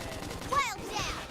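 Gunfire bursts from the video game Xenoblade Chronicles X: Definitive Edition during a battle, short and mixed with game effects and voiced combat lines.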